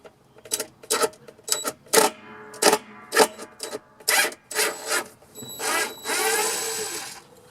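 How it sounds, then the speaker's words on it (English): An impact driver backs screws out of a washing machine during repair, giving a series of loud rattling bursts of clicking hammer action separated by short pauses, close up with no talking. "This is an impact driver. That clicking you hear isn't"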